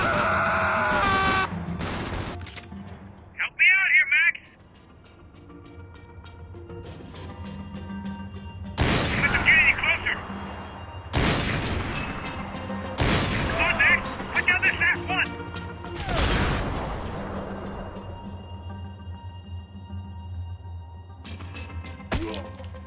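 Gunfire and explosive impacts in the Max Payne 3 video game: several loud, sharp bursts spaced a few seconds apart, with screams and shouted voices in between over a low game background.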